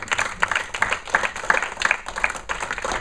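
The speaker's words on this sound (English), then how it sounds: "let's give these guys a round of applause for coming out." An audience at a business app panel discussion claps together in sustained applause, a dense, even patter of many hands lasting throughout at moderate loudness, with no voices over it.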